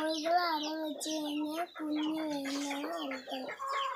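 Chickens cluck loudly and continuously close by on a poultry farm, their harmonic calls overlapping in a steady stream with short breaks between bursts.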